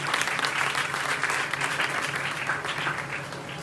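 Church congregation clapping loudly for God during a Pentecost Sunday service, a dense, steady burst of applause throughout.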